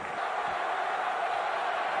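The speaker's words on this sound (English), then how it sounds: "Crowd sets up a roar." A football stadium crowd roars during a 1995 college game between UCLA and USC, a dense, unbroken wall of noise that holds steady and sounds broad and somewhat distant.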